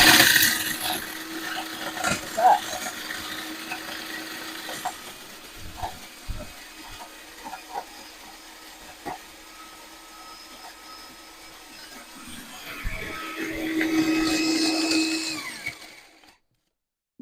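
Kitchen blender smashing cherries for a no-bake cherry coconut slice, with a whirring motor and rattling bursts that swell loudly near the end before cutting off into silence.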